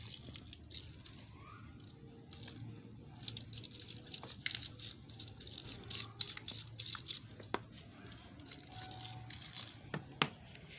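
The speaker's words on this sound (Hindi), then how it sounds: "इनको थोड़ा सा पानी दे देंगे।" Water poured onto garlic plants makes irregular splashes, drips and trickles into the soil, soft and close, with scattered sharper drops against a quiet outdoor background.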